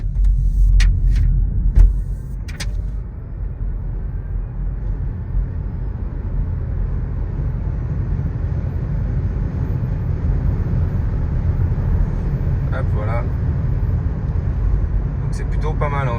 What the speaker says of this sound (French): on va se faire un petit test de 0 à 130